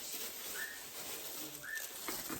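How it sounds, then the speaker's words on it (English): Pet bird giving two short, faint whistled calls about a second apart, heard in a quiet room while gauze fabric is being sewn, with no talking. "you're gonna hear my bird again"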